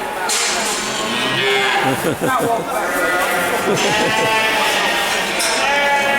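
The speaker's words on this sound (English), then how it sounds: "Hundreds of cattle." Hundreds of very young cattle, small calves crowded together in Bakewell, moo and bellow repeatedly. Overlapping calls at close range ring out over a busy, noisy background.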